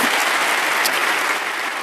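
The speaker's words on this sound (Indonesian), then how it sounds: "Berikan tepuk tangan kita untuk Tuhan kita." Dense, steady applause from a church congregation during an Easter sermon, a loud wash of many hands clapping close by with no voices over it.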